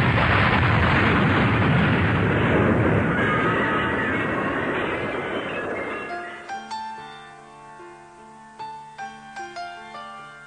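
An anime explosion at the Bay City Hotel roars as a loud, sustained blast rumble, then gives way to a tonal musical sting with a few sharp hits near the end.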